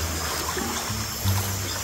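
Water slaps against a rocky shore near a cave at night during a crab hunt, a steady close wash with a low rumble and a slight swell near the end.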